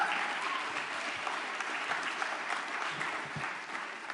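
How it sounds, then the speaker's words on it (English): An audience at a talk on activism bursts into steady, sustained applause, a dense, even wash of many hands clapping that holds for about four seconds without letting up. "You can clap for yourself."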